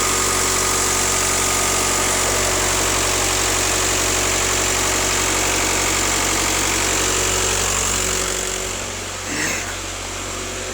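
A 2.0 TDI diesel engine in an Audi A4 runs close and loud with a steady whining drone as the turbo spools up, then the tone drops and briefly shifts near the end.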